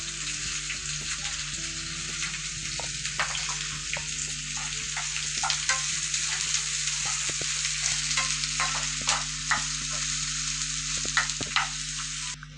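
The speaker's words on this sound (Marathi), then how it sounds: "त्याच्यामध्ये आपण आता कांदा टाकून घेऊ कांदा पण नरम व्हायला द्यायचा आहे तेलामध्ये" Onions sizzle and fry in hot oil with garlic and chilli, a steady close crackle with scattered spatters and occasional stirring scrapes that continues alone through the whole stretch.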